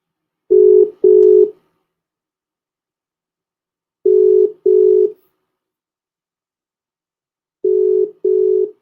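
Telephone tones sound in three evenly spaced double-beep pairs, clear and steady with silence between them, while a dropped remote call reconnects.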